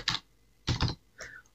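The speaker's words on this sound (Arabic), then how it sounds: "هنا سيطلب منك أن تكتب رقما سريا آخر" A new password is typed on a computer keyboard in three quick, close bursts of key clicks separated by short pauses, quiet and without voices.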